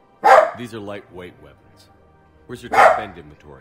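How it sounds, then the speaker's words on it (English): A dog barks twice in the room, sharp loud yelps a couple of seconds apart, heard over game character dialogue. "Sorry about the dog barking"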